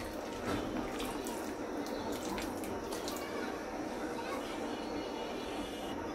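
Vinegar mixed with water is poured into boiling milk, making a continuous, fairly loud rushing pour that runs without a break.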